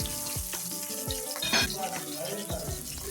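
Mustard seeds, green chili and onion sizzling in coconut oil in a pan while a curry is made, with steady frying crackle and repeated scrapes and knocks of a stirring spoon against the pan.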